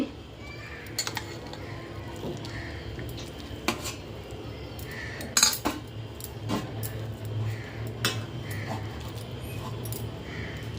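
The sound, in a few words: serving rice onto a plate with a metal spoon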